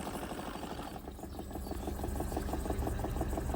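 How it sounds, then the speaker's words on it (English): The small live steam engine of a radio-controlled model launch chugs in a steady rapid rhythm, moderately quiet and continuous, with no speech over it. "he's operating his live steam launch here, which sounds awesome"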